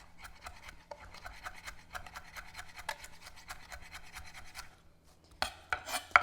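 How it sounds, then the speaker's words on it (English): A knife finely chops scallions and green onions for chimichurri, giving fast, even tapping strokes on a cutting board for about five seconds, then a few louder knocks near the end. "I'm actually going to finely chop the scallions and green onions even more"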